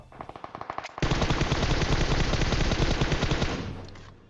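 PUBG Mobile M249 machine gun fire: a few scattered shots, then one long, unbroken automatic burst from a hillside that roars for several seconds before fading.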